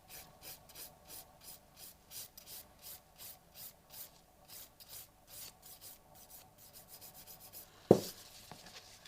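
Thin nail file rasping back and forth across a long glitter acrylic nail, a steady rhythmic run of quick close strokes with a sharp knock near the end.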